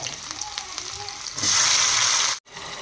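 Oil heated with mustard seeds, cumin and curry leaves, then tomato added, bursts into a loud hissing sizzle after a quieter stretch of low bubbling, holding for about a second before cutting off abruptly.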